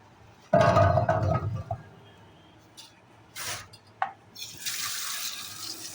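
Cut water taro pieces being washed under a running tap, a loud burst of splashing water at first, then quieter drips, handling and trickling sounds close by in a kitchen sink, with no voices.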